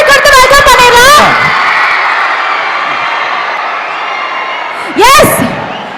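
A large audience at a university album launch event cheers and whoops loudly, then keeps up sustained applause and crowd noise, with another burst of shouting near the end; the event welcomes an independent singer.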